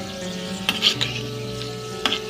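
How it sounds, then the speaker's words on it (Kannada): Cashews sizzling and frying in oil in a pan until golden brown, a steady close crackle with a few sharp stirring clicks and pops, no voices. "ಈ ಗೋಡಂಬಿನ ಗೋಲ್ಡನ್ ಬ್ರೌನ್ ಕಲರ್ ಬರೋವರೆಗೂ ಹುರ್ಕೊಳ್ಳೋಣ"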